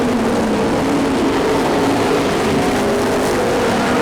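Race cars roar steadily on the final lap of a track race, a loud, dense engine drone of several cars at once, continuous and fairly close.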